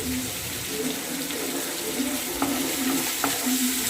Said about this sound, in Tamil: ஒரு கை தக்காளி போட்டுக்கலாம். அதையும் வதக்கலாம்.